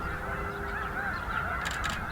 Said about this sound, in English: Some Canada geese hanging around on a small slough.